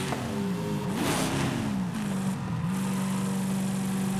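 A video game Mustang's 1770hp engine idles with a steady low rumble after a couple of brief revs, close and continuous with no talking.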